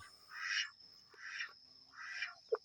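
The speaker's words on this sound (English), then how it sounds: "This is my enormous rooster, Leroy." Three harsh, nasal squawking calls from a rooster, close by and evenly spaced, followed by a short sharp cluck at the end.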